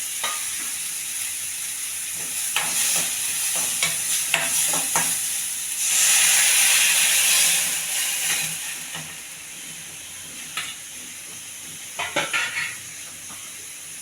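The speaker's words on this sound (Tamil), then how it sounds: "இது முருங்கைக்காய் வேக வச்ச தண்ணியை இதில் சேர்த்துக்கிறேன்." Drumstick cooking water poured into a hot pan of sizzling garlic, curry leaves, onion and tomato for drumstick soup, giving a loud, steady hiss and sizzle with a bright steam burst midway and brief clinks of the pan near the end.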